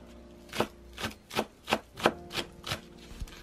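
A knife chops naganegi green onion finely on a cutting board, seven or eight crisp, evenly spaced taps close by, with no voices.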